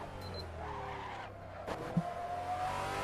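Racing game car on a Detroit Belle Isle street circuit locks a front tire under braking, a thin rising squeal over engine drone with a sharp clunk midway.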